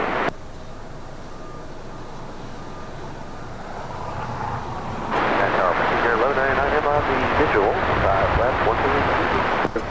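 A heavy United airliner taking off from runway 25 right at LAX swells from a distant whine into a loud, broad jet roar that holds steady, with a radio voice heard over the background engine noise.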